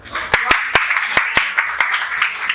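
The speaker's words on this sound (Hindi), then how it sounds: "बहुत बहुत जोरदार तालियां दी" Applause and clapping from an audience at a live Hindi-Urdu poetry performance, with distinct sharp claps rising over a steady crowd patter, close and fairly loud, with no talking.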